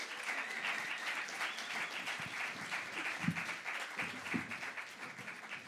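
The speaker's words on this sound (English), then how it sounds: "Can we give a big warm round of applause" Audience applause for panelists arriving on stage at a social media panel event, a steady wash of many hands clapping continuously throughout with no voices.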